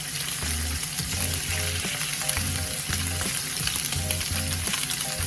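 Scallops sear in a very hot pan, a dense constant sizzle filling the whole stretch, close and fairly loud, with a low rhythmic hum pulsing beneath it and no talking.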